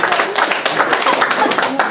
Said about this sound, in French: Merci beaucoup Sandrine, on peut l'applaudir s'il vous plaît.